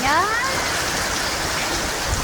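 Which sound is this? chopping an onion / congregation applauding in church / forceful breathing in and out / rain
rain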